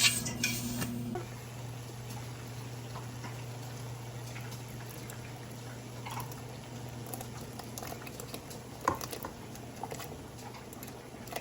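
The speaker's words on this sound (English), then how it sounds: "our water is boiling" A pot of water boils steadily in a home kitchen, with a continuous soft bubbling and faint patter plus the odd light clink of pots, heard close and without speech.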